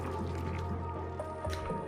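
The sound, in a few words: water sieve running in the video game Oxygen Not Included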